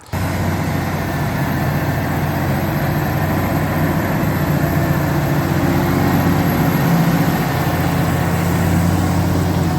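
A 200 hp tractor labours under load pulling a six-furrow plough through a field, its heavy engine giving a loud, steady low drone that holds without a break throughout.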